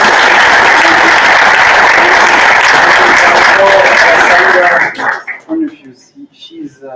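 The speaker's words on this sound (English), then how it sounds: "I will thank and invite you all to applause." A meetup audience applauds at the close of a panel, loud dense clapping sustained for several seconds before thinning out into a few scattered claps.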